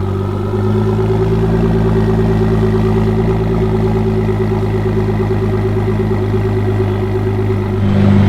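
A car engine at a car meet runs at a steady, close, loud idle with a constant low rumble, rising slightly near the end, with no talking.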